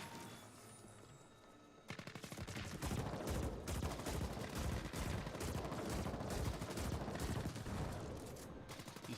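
Turrets in a video game open up with a sudden, loud burst of rapid, continuous automatic gunfire that begins after a quiet lead-in and keeps hammering steadily until the end.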